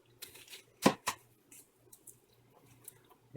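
A knife cuts through an onion on a cutting board in a few sharp, close crunching slices, spaced unevenly with quieter taps in between and no talking.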